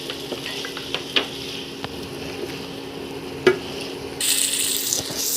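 Chicken being stirred in a hot frying pan: a steady sizzle with scattered clinks and scrapes of the utensil against the pan, close and clear, with no voices.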